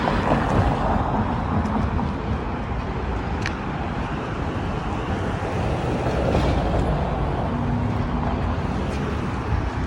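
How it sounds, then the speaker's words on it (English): A train rumbles past at a moderate distance, a steady broad roar that swells and holds over ten seconds, with no voices. "You see a train going by"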